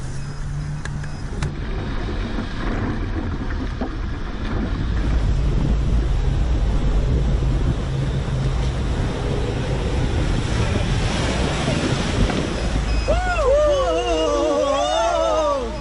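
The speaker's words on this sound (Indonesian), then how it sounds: "sungai besar berarus deras" Strong current of a large river, a broad rushing water roar with heavy wind buffeting the microphone, loud and continuous, with a brief engine-like whine near the end.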